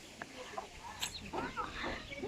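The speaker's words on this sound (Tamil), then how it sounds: "கோழி வருது கொத்த போகுது" A chicken clucks in short bursts amid outdoor background noise, with faint human voices nearby.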